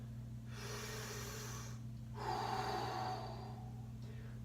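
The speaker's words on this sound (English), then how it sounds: "So I take several deep breaths" Slow, deep belly breaths drawn in and let out during a forward fold stretch, two long airy inhale-exhale swells over a steady low hum, close and fairly quiet with no talking.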